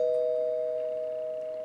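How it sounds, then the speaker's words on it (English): A doorbell chime in a cartoon-style home scene holds one steady, clear tone that rings on without a break and fades slowly, with no voices. "until someone rang the bell"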